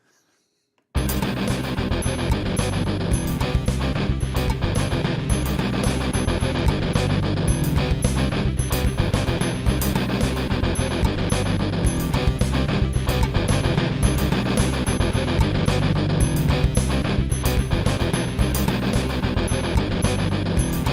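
Dense, loud digital thrash metal punk music generated by the pUnKGeN iOS app starts after a second of silence and keeps going with distorted guitars, synth and fast, relentless drums, with no voices.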